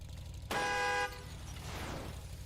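A car horn in a Roblox video game blares in one sustained, loud, tonal honk lasting about half a second, followed by a broad wash of engine and game noise that fades slowly.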